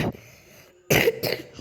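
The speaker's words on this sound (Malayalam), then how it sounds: "എനിക്ക് ഭയങ്കര ചുമയാണ്." A person gives a few harsh, close coughs in quick succession after a short quiet pause, loud and alone with no speech.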